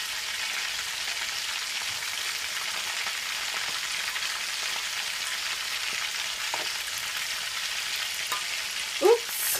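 Meatballs brown in a frying pan with a steady, close, even sizzle that runs throughout, with a few faint clicks near the end.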